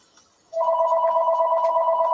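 A home telephone starts ringing after a brief quiet moment, a loud, steady electronic two-tone trill that continues unbroken, close by.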